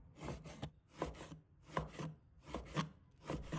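A knife chops through fatty pork belly on a cutting board, slicing it thin for frying with taro and pumpkin; steady close knocks fall in regular pairs, each with a short scraping swish, with no talk.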